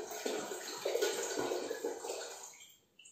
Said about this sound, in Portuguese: Você coloca no seu fogão 1 litro de água para ferver.